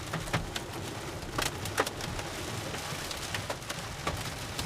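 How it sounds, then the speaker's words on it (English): Small hail hits a storm chasing car during a storm in Minnesota or Iowa, a dense steady patter with scattered sharper ticks as stones strike the vehicle, and no talking. "It's a small hail. It sounds louder than it is."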